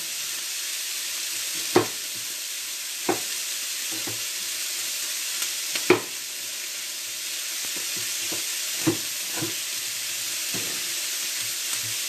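Vegetables sizzle steadily in a hot frying pan, with occasional sharp clacks of a utensil stirring them. No one speaks.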